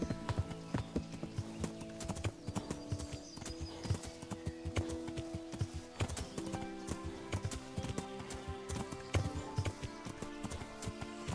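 Horse hooves clip-clopping in the medieval game Kingdom Come: Deliverance, a steady rhythmic run of hoofbeats with a harness jingling, close and continuous.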